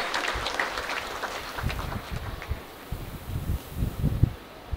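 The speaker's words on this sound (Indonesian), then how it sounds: "Tepuk tangan boleh untuk kita semuanya" Audience applause at a campus lecture, a broad wash of clapping that swells unevenly and peaks near the end, moderately loud with no talk over it.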